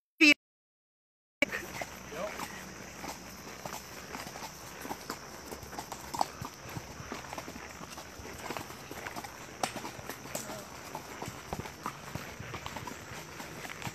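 Two horses' hooves clip-clop in a steady walking rhythm over constant outdoor noise in West Babylon, New York, with faint voices now and then.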